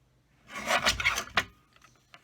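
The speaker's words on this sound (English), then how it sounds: "And then use my mini trimmer to trim that down." A mini paper trimmer slides its blade through a strip of cardstock for a greeting card, one close, rasping cut lasting about a second, followed by a couple of faint clicks.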